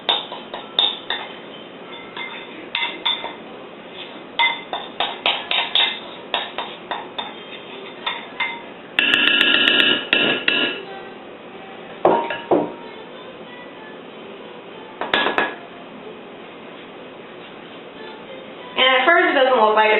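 Baking soda, starch, oils and food coloring are mixed in a bowl for bath bombs, giving irregular scraping and clinking bursts close by, between stretches of talk.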